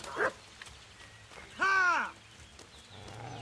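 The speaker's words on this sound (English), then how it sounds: "they've got a dog as well though" A dog in Kingdom Come: Deliverance gives two barks against a quiet outdoor background, a short yelp first and then a longer, louder bark.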